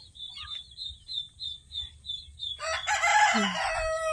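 Chicks cheep in a steady repeating rhythm, then a rooster lets out a loud, close crow over the peeping.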